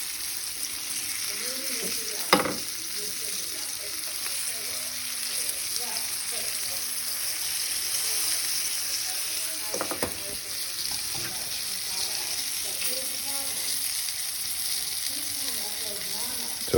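Pheasant pieces fry and brown in a pan with a steady, close hiss and crackle of hot fat, broken by a couple of sharp clinks, with no talking over it.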